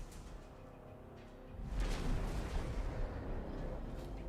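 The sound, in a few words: torpedo explosions hitting a station in the video game X4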